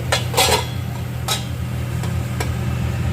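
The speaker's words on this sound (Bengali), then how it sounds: "এবার আমি একটু ঢাকা দিয়ে দেব" Metal lid set onto a cooking pot of chicken, a few sharp clanks and scrapes close by over a steady low hum of a gas flame, no talking.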